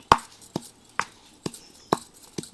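Spices being pounded coarsely by hand at home in a village kitchen: five or six sharp, evenly spaced thuds about half a second apart, close and distinct with quiet gaps between strikes.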